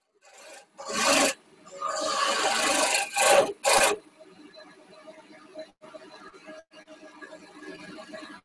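Wood turning on a lathe at half speed on a mid-belt setting gives loud rasping bursts as the tool cuts, separated by short pauses, then a quieter steady whir with faint scraping.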